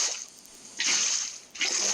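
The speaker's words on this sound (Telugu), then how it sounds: "ఓకే గైస్, మన అన్లిమిటెడ్ వాటర్ సోర్స్ అయితే రెడీ." Flowing water in Minecraft from an infinite water source, bursts of splashing and rushing water starting and stopping twice over a faint hiss, close and fairly loud, with no talk.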